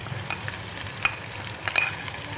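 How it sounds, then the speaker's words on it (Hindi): Two spoons of ginger garlic paste go into light-browned onions for mutton yakhni pulao and are stirred, giving a soft, steady sizzle with faint scraping and clinking of the spoon against the pan, alone with no voices. "अब मैं इसमें शामिल करूंगी 2 चम्मच अदरक और लहसुन का पेस्ट।"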